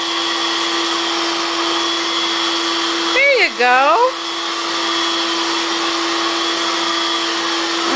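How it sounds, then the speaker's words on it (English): Household vacuum cleaner running steadily and loudly throughout, with a voice briefly speaking over the constant whine. "You know how to vacuum. With your other vacuum, push and pull and push and pull."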